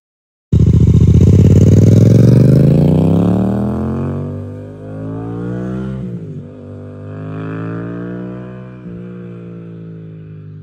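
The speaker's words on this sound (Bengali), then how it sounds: "এখন আমাদের বাবাটা অনেক লম্বা সময় মোটর বাইক চালিয়ে বাসায় ফিরে যাচ্ছে।" A motorbike revs up close by, its engine rising in pitch through the gears, then fades and drones on as it rides away into the distance, alone without talk.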